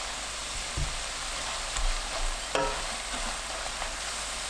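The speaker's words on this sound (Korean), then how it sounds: "파 줄기 부분부터 넣고 중불로 4분 더 볶아주세요." Old, sour kimchi with green onion stalks sizzles in a pan over medium heat, a steady broad hiss of frying broken by a few soft scrapes and knocks of stirring, alone without any voices.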